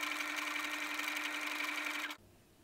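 A sewing machine runs steadily for about two seconds, a continuous close whirring drone during a lesson on stitch types, then cuts off abruptly, leaving only faint room tone.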